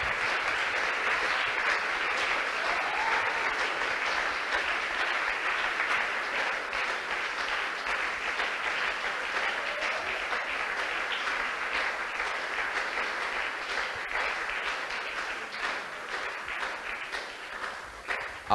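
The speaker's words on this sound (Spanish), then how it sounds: "Si ese aplauso es para el Señor, déselo con toda su alma." A church congregation applauding, a sustained, even roar of many hands clapping that continues for nearly twenty seconds and fades slightly toward the end.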